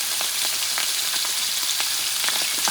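Citrus chicken, a poulet à l'orange, fries in a pan with a loud, dense, continuous sizzle and scattered spitting pops, the sound steady throughout with no talking.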